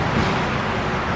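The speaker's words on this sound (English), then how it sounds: "Just enjoying the ambient sounds of loud trucks" Trucks and cars stream past on the Pennsylvania Turnpike, a steady close roar of tire and engine noise with no breaks or talking.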